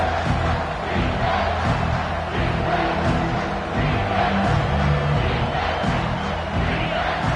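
Home crowd noise at a college football game, a loud steady roar filling the stadium as the defense tries to get off the field on third down, with no clear break in the din.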